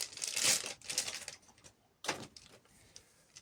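Crinkly rustling of a small plastic packet being opened in several short bursts, loudest at the start, pausing briefly, then another crackling handful of crinkles close by.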